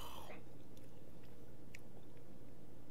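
Someone chews fermented raw skate with soft cartilage, producing quiet, close, moist chewing and a few faint bites over low background noise.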